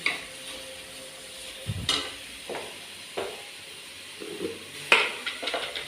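Onions fry in a pan with salt added, a low sizzle underneath while a spoon scrapes and knocks against the pan in several separate, fairly close strokes.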